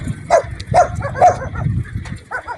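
Dogs barking in a burned-out village, several sharp barks in quick succession close by, followed by fainter yips, with a low rumble beneath.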